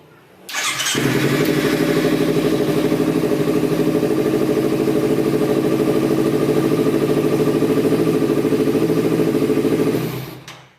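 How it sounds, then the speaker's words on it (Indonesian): A motorcycle fitted with a fingerprint starter cranks and catches, then settles into a steady, loud, close idle that runs evenly for several seconds before cutting off. "Starting the engine."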